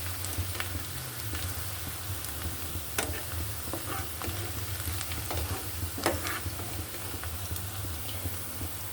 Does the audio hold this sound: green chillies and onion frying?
yes